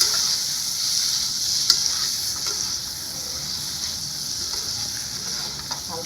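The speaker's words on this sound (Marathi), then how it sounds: "थोडंसं पनीर फ्राय करून घ्यायचं." Paneer frying in hot butter, a steady high hiss of sizzling fat with a few faint ticks and crackles, close and constant, no voices.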